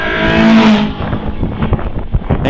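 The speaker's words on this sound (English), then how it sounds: "Engine sounds very, very crisp on that little car." A Caterham 7 race car at the Harewood hillclimb, its engine loud and crisp as it revs up, then drops to a rougher, fluctuating note while pulling away, close and without speech.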